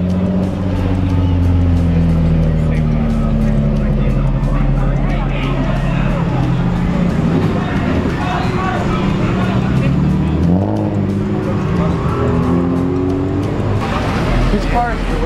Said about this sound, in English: That's GTI? Yeah, that turbo.